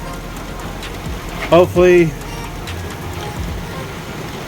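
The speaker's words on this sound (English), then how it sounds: "Well, shoot, I'm getting rained out." Rain comes down on an RV build site as a steady broadband patter of drops, with a person speaking briefly in the middle over the constant hiss.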